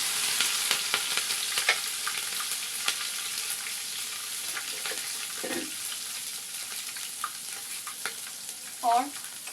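Cumin seeds and green chillies sizzle in hot oil for an aloo baingan sabzi, a steady close frying hiss dotted with small pops and a few utensil knocks, with no talking.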